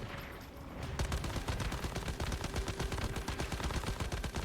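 Sustained light machine gun fire in the video game Once Human, rapid evenly spaced shots in a dense continuous burst after a quieter opening, loud and close.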